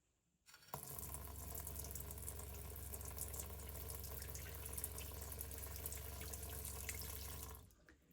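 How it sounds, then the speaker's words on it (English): A caravan sink tap runs with a Seaflow 42 series water pump: a steady rush of flowing water over a constant low motor hum, starting abruptly and stopping cleanly after about seven seconds, close and alone. "I'll turn this tap on here,"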